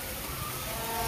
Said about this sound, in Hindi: ये बारिश बहुत तेज़ हो रही है